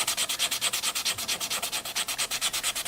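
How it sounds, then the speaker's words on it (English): 100 grit sandpaper is rubbed briskly by hand over a Martin acoustic guitar, giving a close, rhythmic series of rasping strokes, roughly six or seven per second, with no voices. "I think it's like 100 grit sandpaper"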